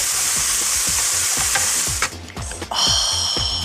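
Barberries cooking with sugar in a pan, a bright steady sizzle punctuated by a regular run of quick stirring scrapes, loud and close with no voices.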